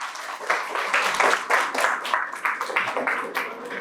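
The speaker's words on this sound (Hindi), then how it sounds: "जोरदार तालियां" Studio audience clapping for a correct answer on a quiz show, a dense, fairly close burst of hand claps that holds steady for a few seconds.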